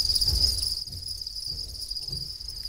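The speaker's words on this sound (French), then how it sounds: "Ici, le bruit des grillons, c'est au quotidien." Crickets chirping in an insect farm's rearing room, a dense high continuous trill with a faint low rumble underneath, close and fairly soft, no voices.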